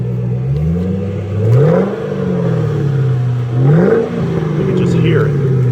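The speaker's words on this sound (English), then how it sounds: "I want him to rev it up here." A 2010 Mustang GT500 with 4,800 miles revs hard twice, its engine note surging up and falling back to a steady rumble, loud and close with no talking.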